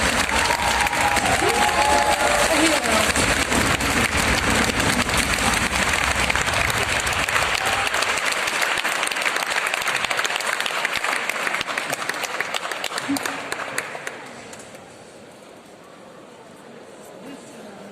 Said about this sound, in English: Please welcome her on stage with every applause